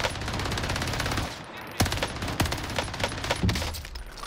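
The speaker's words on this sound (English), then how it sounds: "Freaking recoil on this gun." An MP40 submachine gun fires in a first-person shooter video game, with rapid bursts of gunfire and a few sharp, louder shots over a busy, noisy background.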